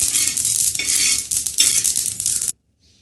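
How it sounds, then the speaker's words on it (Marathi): Sesame seeds roast dry in a pan while being stirred, giving a steady crackling hiss with scraping strokes for about two and a half seconds before stopping abruptly. "तिळ पण भाजून घेऊ तीळ पण छान भाजले"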